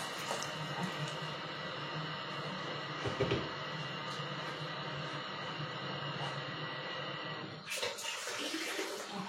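Steady stream of water pouring into a pot, with a couple of clunks of cookware partway through.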